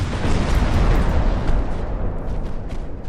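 Heavy naval guns from warships in a dreadnought-era sea battle in Ultimate Admiral: Dreadnoughts, a deep rumbling boom that swells early and then slowly decays, followed by a couple of fainter distant reports.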